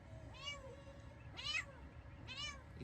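Cats give three separate meows, spaced about a second apart, fairly faint over a steady low background hum, with no talking.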